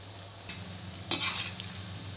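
Food fries in refined oil in a pan and is stirred, giving a quiet, steady sizzle broken by a couple of short scraping stirs against the pan.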